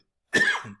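A man gives a single short, sharp cough, close and clear in an otherwise silent space.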